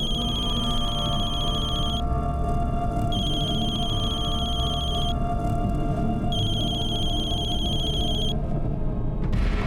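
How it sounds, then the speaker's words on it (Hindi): A phone rings in repeated electronic bursts, about four rings with short pauses between, over a steady rumbling background. "माँ बेल तो जा रही है लेकिन फोन नहीं उठा रही है।"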